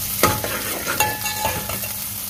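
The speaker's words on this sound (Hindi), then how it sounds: "अब मैंने प्याज इसमें डाल दी है और इसको प्याज को मैं गोल्डन ब्राउन करूंगी" Onions frying in oil until golden brown, with a steady close sizzle and a few soft scraping stirs of a spatula in the pan. No voices are heard.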